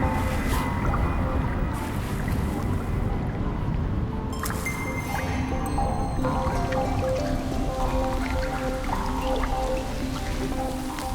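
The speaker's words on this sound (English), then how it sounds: "The downpour marks the end of summer." Dense, steady patter of a heavy late summer downpour on the Untersberg mountain, with scattered drips and splashes, loud and close throughout, shifting slightly in intensity over several seconds.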